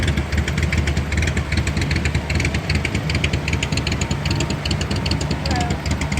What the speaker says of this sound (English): 49 Buick sedanette. This is a Roadmaster.